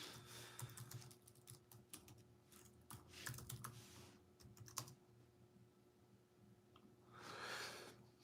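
Fingers type an email on a computer keyboard, a quiet run of irregular clicks and key taps in short bursts with pauses, with a breathy exhale near the end and no speech.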